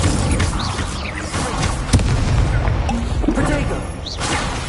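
Spell effects in the Hogwarts Legacy video game, including the Incendio fire spell, come as a busy run of booms, crashes and whooshes with a sharp hit near the middle, loud and steady throughout.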